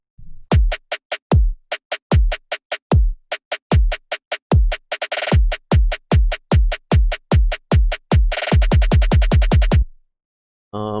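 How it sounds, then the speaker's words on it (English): A snare drum pattern that builds from spaced hits into faster rolls, accelerating into a dense snare roll before cutting off. "A big part of this build-up is going to be the drums, especially the snare kind of rolling pattern."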